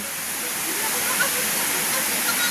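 A waterfall on a farm lot in Calauag, Quezon crashes into a large creek, a steady, loud roaring rush that holds constant and fills the whole stretch.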